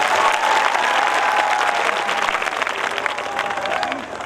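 Audience applause fills the air at a live comedy show at Ramghat by a Prem Chopra lookalike, dense steady clapping with crowd murmur running the whole time, loud and fairly close.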